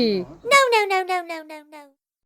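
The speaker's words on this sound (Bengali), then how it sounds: "ওই দেখো ইফরাজ ক্যাট" A brief voice gives way to a drawn-out cat meow, pulsing several times and sliding down in pitch before fading out.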